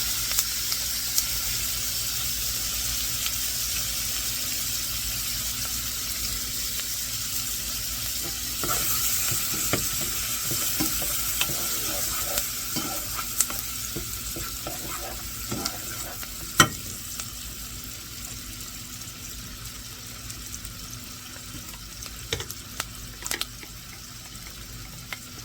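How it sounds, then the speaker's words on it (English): Diced onion sauteing in a pot, a steady soft sizzle running throughout with occasional scrapes and stirring clinks, close and unaccompanied by talk. "Get this kind of sauteed up, get the onions softened a little bit."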